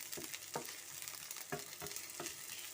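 Onion for borscht fries in a pan, giving a faint, steady sizzle with a few soft stirring scrapes at irregular intervals and no talk.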